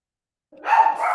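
A dog gives a single short, loud bark, close by and sharp, after a moment of silence, with nothing else heard.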